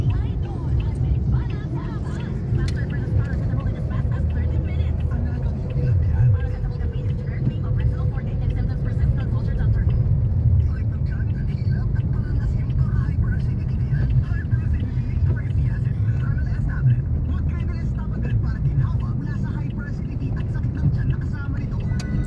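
Street traffic near Araneta in Quezon City by a flyover, a continuous low rumble of engines and passing vehicles heard from inside a moving car, with people talking over it.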